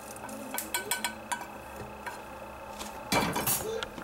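Close, scratchy grinding of pepper with a few sharp clinks of utensils against a dish, then a denser burst of crunching near the end; no talking.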